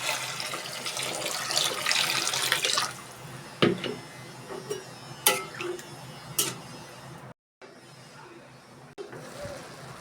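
Water is poured into a pot of lentils with chopped onion and mustard oil, making a rushing splash that fades into quieter drips and small knocks.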